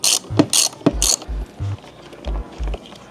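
A 13 mm socket ratchet loosening the fender bolts on a 450 SR-S motorcycle, close and crisp, with several quick ratcheting bursts followed by a series of softer clicking strokes.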